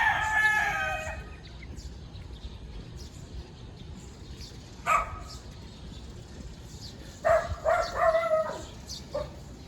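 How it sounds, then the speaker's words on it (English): A rooster crows on a residential walkthrough in Naga, Cebu, Philippines, the calls coming in several bursts at moderate distance over steady outdoor background hum, with a dog also sounding nearby. "Rooster Central over here."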